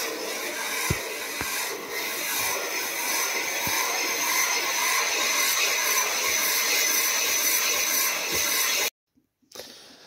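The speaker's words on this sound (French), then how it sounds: "dans la biseauteuse. On vient bien se mettre en bout de machine, on verrouille." A bevelling machine grinds the end of a Habasit belt for a lathe drive belt, producing a loud, steady whirring hiss with a few clicks, then cutting off abruptly near the end.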